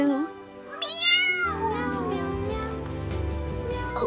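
A kitten meows in high, rising cries amid a busy mix of other sounds, with a deeper rumble and tonal noise filling the second half.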